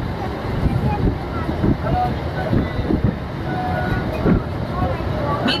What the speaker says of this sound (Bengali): शामचक स्टेशन देखे ट्रेन टा छाड़लो